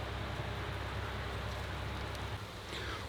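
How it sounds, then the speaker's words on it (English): Heavy rain falls across Yardley Cemetery in Birmingham, UK, a dense, even hiss of downpour that holds steady throughout with no voices. "it's raining hard now and the sky shows no sign of it breaking"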